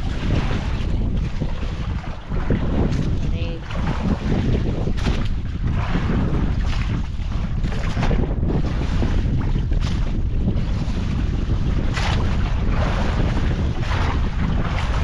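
Strong wind buffets the microphone in a constant low roar while fishing at sea, with water and waves churning underneath, loud and unbroken throughout.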